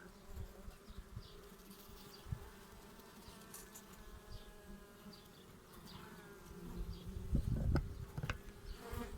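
Honey bees buzz steadily at a freshly opened hive just after winter, a dense close drone with a few louder passes near the end.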